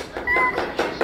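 A child imitates a cat, giving a short, drawn-out meow-like cry followed by a couple of softer vocal bursts, close and clear in a quiet room.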